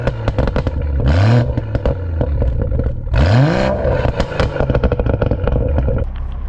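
BMW M140i Shadow Edition (440 bhp) exhaust during a standing sound test: two loud rising revs with burbling, crackling overrun pops scattered between and after them, close and alone.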